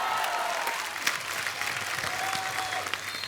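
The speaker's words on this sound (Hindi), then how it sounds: "एक बार जोरदार तालियां गोविंदा सर और सुनीता मैम के लिए।" Studio audience on a comedy talk show bursting into sustained, dense applause, a loud even wash of clapping from a large crowd that carries on without break.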